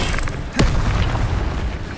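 An Incendio fire spell blast in the video game Hogwarts Legacy, a single loud booming burst midway through, set against rumbling game combat noise.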